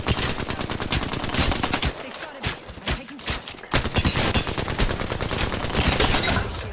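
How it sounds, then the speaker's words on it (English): Rapid video game gunfire crackles in dense automatic bursts with brief pauses, loud and close throughout. "I'm getting shot from another team."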